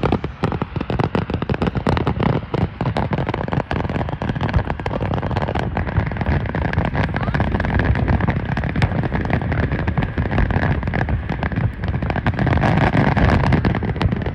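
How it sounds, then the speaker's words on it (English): Dense, continuous crackling and popping of many fireworks bursting at once in New Mexico, a loud unbroken barrage from all around. "so many fireworks from all directions"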